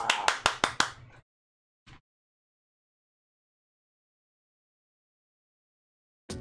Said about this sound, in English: for it to hear me clapping